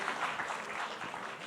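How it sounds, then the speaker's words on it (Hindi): Applause from a live audience at a Hindi poetry reading, a steady, dense wash of clapping filling the short moment without a break. "आप लोग तालियां बजाओगे ना तो मुझे बड़ा मज़ा आएगा।"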